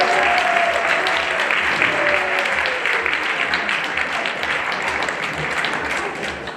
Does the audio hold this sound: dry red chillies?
no